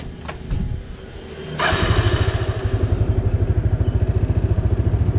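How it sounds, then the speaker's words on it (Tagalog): A Yamaha Mio Sporty scooter's engine cranks and catches, then settles into a steady, rapid, even idle putter, loud and close, with a few clatters and thumps just before it starts. "Ngayon paandarin natin yung motor"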